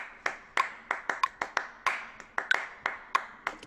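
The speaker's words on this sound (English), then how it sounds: "And then I just clapped into my mic in time." Sharp hand claps close to a microphone, about a dozen crisp claps in a steady rhythm keeping time with a track, each clap standing alone with no talking.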